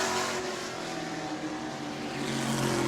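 A race car at New Smyrna speedway, car number 9 in a Ground Pounders event, its engine roaring continuously at high revs with a sustained, slightly wavering drone at moderate distance.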